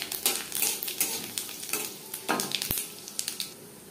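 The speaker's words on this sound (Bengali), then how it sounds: "লঙ্কা ভেজে নেওয়ার পর দিয়ে দেবো 5 ফোড়ন" Dried red chillies and panch phoron spices fry in a pan, a steady close sizzle broken by quick spoon scrapes and taps against the metal.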